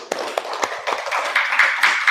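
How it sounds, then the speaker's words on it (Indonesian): A classroom of students claps in applause, with a few scattered hand claps that quickly build into a brief, dense burst of clapping close by. The sound lasts only a couple of seconds. "Tepuk tangan untuk semuanya."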